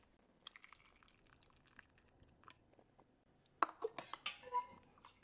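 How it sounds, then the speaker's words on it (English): Hot pickle liquid for bread and butter pickles is poured from a small measuring cup into canning jars, with faint trickling and drips at first, then closer splashing and glassy clinks. "I'm going to use my little measuring cup here as I fill the jars."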